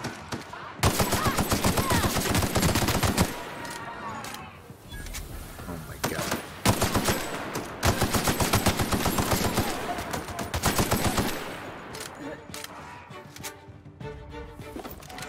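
Rapid automatic gunfire in the video game The Outer Worlds comes in dense, loud bursts separated by short lulls, with voices talking under the shooting.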